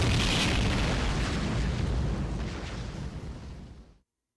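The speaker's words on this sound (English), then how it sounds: "Crap, they're homing missiles." Homing missiles exploding in the video game Fate Grand Order, a loud rumbling blast that roars up front and then decays over several seconds before cutting to silence.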